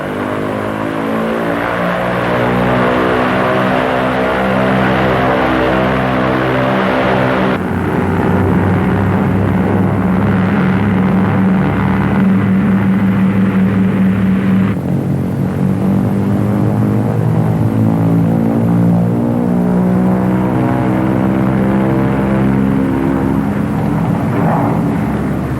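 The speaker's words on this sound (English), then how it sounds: "throttles advanced to get maximum allowable manifold pressure." Twin engines of a Lockheed P-38 run up at full throttle, a loud continuous propeller drone with shifting pulsing harmonics, surging and changing pitch in distinct steps as the revs climb and settle.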